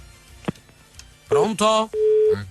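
Telephone line signals on a radio call-in show, a steady tone and then a longer held beep after a short burst of speech-like sound, all fairly loud.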